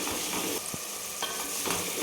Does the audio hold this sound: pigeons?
no